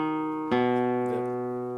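A single strummed chord closes the classical guitar's Granadinas section, struck once and left to ring clearly, close and alone, after a held note fades beneath it.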